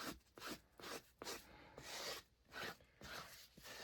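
Wet, freshly glued wood of a tool holder rubbed down by hand, a series of close, soft rasping strokes in an uneven back-and-forth rhythm, quiet and alone.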